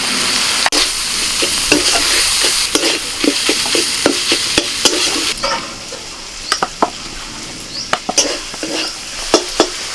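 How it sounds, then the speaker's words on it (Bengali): Chicken with turmeric, salt, coriander, pepper, cumin and chili powder fries for a Kabul roll, sizzling steadily while a spatula scrapes and knocks the pan in irregular, sharp strokes. "মশলার সাথে চিকেনটাকে আমি মিনিট পাঁচের মতো কষিয়ে নিয়েছি"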